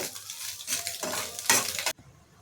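Fried egg being mixed with turmeric in a pan, short bursts of sizzling and spatula scraping in three quick strokes, then cutting off to near silence.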